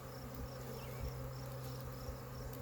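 Honeybees swarm and buzz at a backyard beehive entrance after the bottom plate is pulled off, a steady dense hum with a low drone running the whole time and no voices over it.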